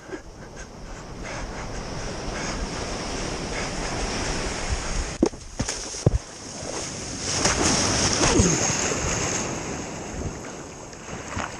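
Ocean swell breaks at Pātaua beach in New Zealand on a calm morning, a continuous loud wash of surf that rises and falls, with a couple of brief thumps partway through.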